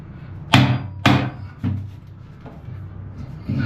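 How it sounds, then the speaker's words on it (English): Three hard, sharp hammer blows strike an old heater in quick succession, each a loud metallic bang with a short ringing tail, followed by a couple of softer knocks. "If everything else fails, use a hammer"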